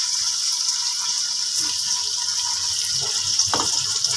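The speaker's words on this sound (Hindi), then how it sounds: "अब मैंने इसमें यखनी डाल दी जो निकाली थी" Meat stock (yakhni) pours steadily into a cooking pot while making beef pulao, giving a continuous, fairly loud watery gush with a few small splashes near the end.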